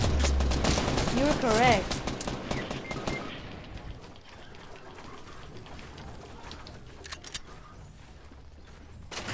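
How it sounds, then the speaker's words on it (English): Gunfire in Fortnite aimed at the players, a dense, loud rapid-fire burst over the first two seconds with a voice talking, then trailing off into quieter scattered game noise. "Oh crap, they're actually shooting us."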